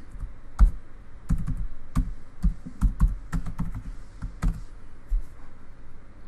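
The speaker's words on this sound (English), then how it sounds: "John Bain will type in his email address" Fingers type on a computer keyboard in short bursts of quick, crisp key clicks with brief pauses between them, close and alone in a quiet room.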